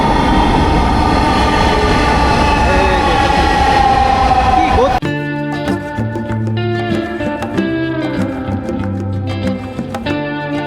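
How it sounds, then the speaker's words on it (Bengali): A Dhaka Metro Rail train rumbles loudly into the station, a dense roar that gives way to rhythmic clanks and squeals as it slows. "তো আমাদের ট্রেন কিন্তু আসতেছে ভাই"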